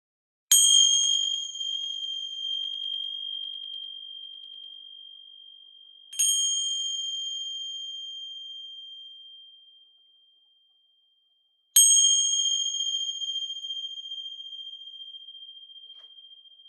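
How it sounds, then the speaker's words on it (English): Three sharp bell strikes ring out several seconds apart, each with a long, shimmering sustain that slowly fades before the next. "Gonna ring some bells here. They may be a little loud"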